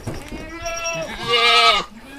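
An Etawa goat bleats on a goat farm, two close, loud wavering calls, the second longer and stronger, with no talk.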